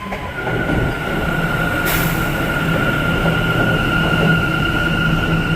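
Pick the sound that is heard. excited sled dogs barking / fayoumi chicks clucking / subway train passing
subway train passing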